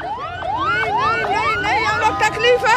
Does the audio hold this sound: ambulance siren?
yes